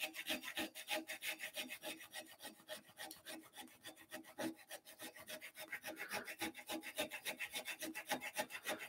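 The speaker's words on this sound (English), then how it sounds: "So we're going to go with the microplane." A microplane rasp files a wooden dowel turning on a woodturning lathe, giving a steady run of close, rapid rasping strokes that stay fairly even in loudness throughout with no talking.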